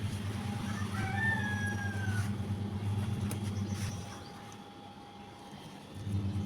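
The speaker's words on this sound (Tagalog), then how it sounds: "Mas maingay pa yung mga ibon." Birds call outdoors during a morning date harvest, with a rooster-like crow and a few thin chirps over a steady low rumble, fairly faint and distant.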